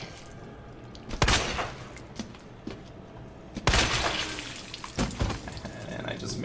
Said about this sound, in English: Made his head explode.